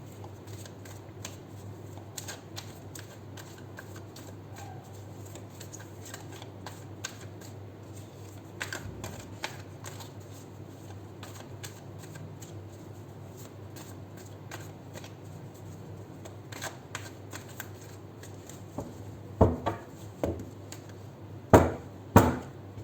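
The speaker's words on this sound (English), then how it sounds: "We'll do 7 shuffles and we'll pull out your cards." Tarot cards, an original Rider-Waite deck, being shuffled by hand in repeated riffles and slides, crisp papery flutters over a quiet steady hum, with a few louder snaps toward the end.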